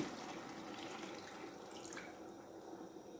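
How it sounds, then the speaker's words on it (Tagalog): Water runs in a steady, soft splashing stream into a cooking pot of simmering chicken adobo, faint and alone with no voices. "Butahan na nato siya tubig."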